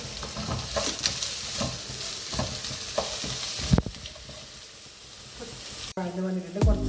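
Chopped onions and prawns sauté in a hot pan for a Kerala-style prawn coconut roast. A steady close sizzle runs throughout, broken by stirring scrapes and clinks of a utensil against the pan.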